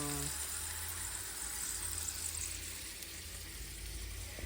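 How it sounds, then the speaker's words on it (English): A steady, hissing sizzle of broccoli sautéing in a frying pan, close and constant, with a faint low hum underneath. "Listen to that sizzle, y'all."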